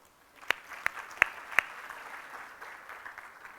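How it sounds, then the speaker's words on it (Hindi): A seminar audience claps: four sharp, evenly spaced claps stand out over a soft, diffuse patter of clapping that fades gradually, heard at a moderate distance. "ताली बजाओ।"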